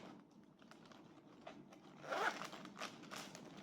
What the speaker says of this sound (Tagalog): Ito yung zip, may zipper.